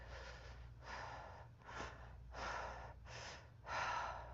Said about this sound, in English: when we breathe through our mouths